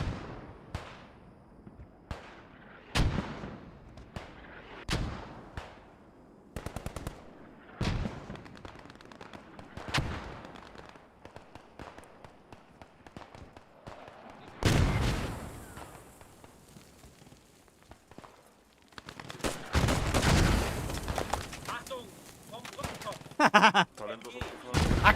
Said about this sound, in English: Partisans and PIB exchanging machine gun fire